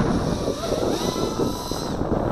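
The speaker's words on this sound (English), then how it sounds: "I got a 10 knot wind too, 10 mile per hour wind" Gusty wind rushes steadily across the microphone while a small X220 FPV racing drone flies outdoors in a 10-knot breeze, with a faint whine of the motors under the constant broadband roar.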